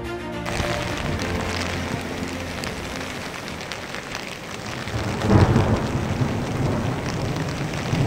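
Thunder rumbles through a heavy thunderstorm on a March storm front near the coast facing Noirmoutier island, with a louder, closer clap partway through over steady, dense rain pouring onto surfaces.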